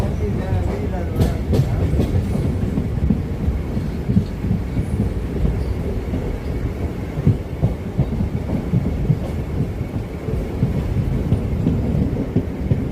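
A local train pulling into Ennore railway station, heard from on board as a loud, continuous low rumble and rattle with faint voices underneath.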